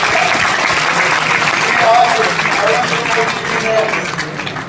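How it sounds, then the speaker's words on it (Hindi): Broad, steady audience applause at a Sewa Parv 2025 public event with a government minister, a dense wash of clapping filling the hall at a fairly even level throughout. "तालियों की गड़गड़ाहट से इसके लिए बधाई हो"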